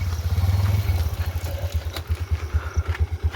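Near motorcycle engine chugging with a steady low pulsing beat, revving briefly then settling into an uneven idle-like throb, with no talking over it.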